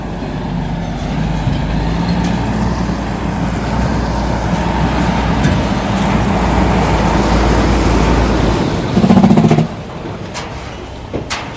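Steady rumble of idling and crawling trucks, cars and buses jammed along a road at Church Corner in Morant Bay, St. Thomas, with a brief hiss of air brakes near the end and no talk.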